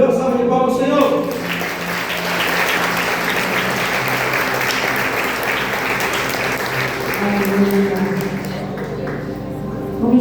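Steady applause from a church congregation at an Assembleia de Deus service, sustained clapping for about ten seconds after a pastor's speech, with voices faintly mixed in.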